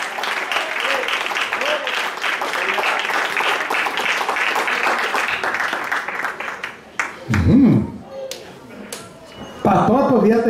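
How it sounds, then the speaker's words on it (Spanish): Hands clap rapidly and continuously in praise of God at a church service, a dense run of claps lasting several seconds before giving way to someone speaking loudly. "voy a aplaudir a ese Dios, porque se merece palma"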